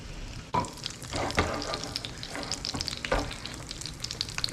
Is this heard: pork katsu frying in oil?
yes